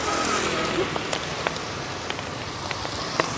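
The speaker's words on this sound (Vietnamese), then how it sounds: "Trời mưa to quá quý vị ơi." Heavy rain pours down steadily, a loud dense hiss with scattered drips and sharper taps striking nearby surfaces.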